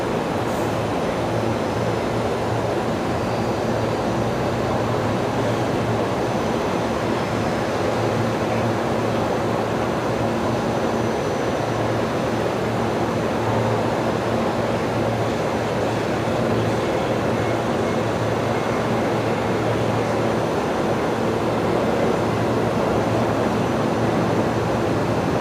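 A Jetstar airliner takes its takeoff roll at Brisbane Airport, a steady distant roar of jet engines rumbling on without pause or talking for the whole stretch.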